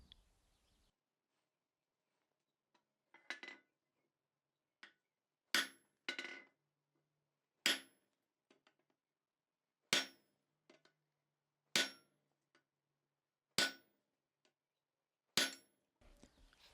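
A blacksmith hammers a steel tab against the near side edge of an anvil while forging a vise stop for a vertical filing vise, giving sharp, ringing blows at a slow, steady pace with quiet pauses between them.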